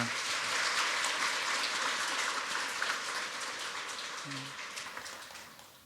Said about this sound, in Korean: 하나님 앞에 감사와 영광의 박수 한번 올려드리도록 하겠습니다